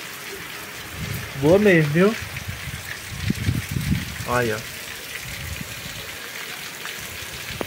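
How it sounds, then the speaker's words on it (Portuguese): Rain falling steadily in Jamacaru, Missão Velha, Ceará, a continuous hiss under someone speaking briefly, holding evenly throughout. "começou a chover aqui em Jamacaru"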